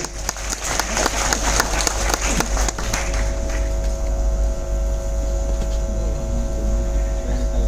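At an indoor product demonstration, an audience breaks into loud applause that fades after a few seconds, leaving a steady electrical mains hum and some talking.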